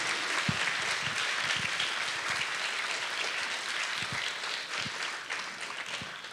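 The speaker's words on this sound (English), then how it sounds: "Can I have a round of applause for our guest speaker," Audience applause for a guest speaker at a lunchtime Earth Week talk, a dense, steady wash of many hands clapping that carries on throughout at moderate level, with a few sharper nearby claps standing out.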